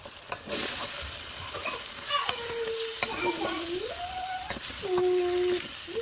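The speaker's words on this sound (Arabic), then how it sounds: "نحركهم." Meat being stirred and fried with tomato paste, salt and pepper in a pot for Saudi kabsa, giving a steady close sizzle with scraping stir strokes throughout, while a voice talks faintly in the background.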